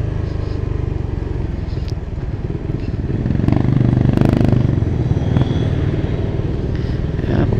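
Motorcycle ride captured from a chest-mounted action cam, with a steady, loud engine drone and road and wind rumble throughout, swelling slightly mid-ride; no talking.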